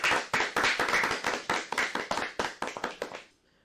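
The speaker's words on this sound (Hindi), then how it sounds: "एक बार फिर से अनन्या के लिए जोरदार तालियां बजाएं।" A small group's brisk, rapid applause for a child storyteller, dense claps at close range that thin out and fade to silence after about three seconds.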